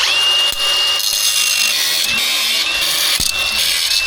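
A power tool trims long studs during a suspension lift kit install on a K20 Squarebody Suburban, giving a loud, continuous, harsh cutting whine with a few brief dips.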